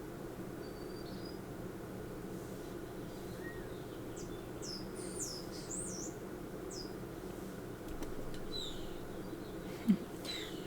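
Lively birds chirp outdoors in short, faint, scattered tweets above a steady low background hum, heard from indoors at a distance, with one brief knock near the end.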